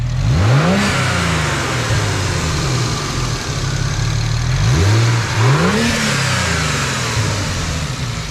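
A single-turbo BMW 335is engine idles with a deep rumble, then revs sharply three times, each rise and fall loud and close.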